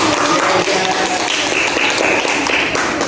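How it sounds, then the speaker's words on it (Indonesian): A class applauding a student group, a steady wash of clapping from many hands filling the room, fairly loud and sustained throughout. "Beri tepuk tangan kepada kelompok 1."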